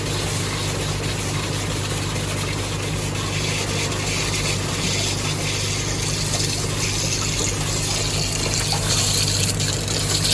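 Water rushes steadily through a newly installed Big Blue whole-house filter and its household plumbing, a continuous close hiss and gurgle with a faint motor-like hum underneath, with no voices.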